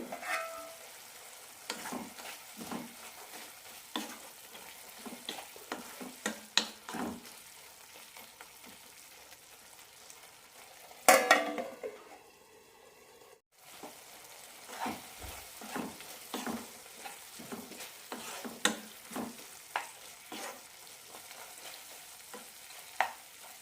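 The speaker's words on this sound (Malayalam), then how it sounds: "ഇനി തിളച്ച് വെച്ച് വേവിക്കാം ഇടയ്ക്കൊന്ന് ഇളക്കാം" Chicken for a chicken cabbage fry cooks in a pan and is stirred now and then, with a soft continuous sizzle broken by frequent scraping taps of the spoon and a brief clatter midway. Nobody speaks.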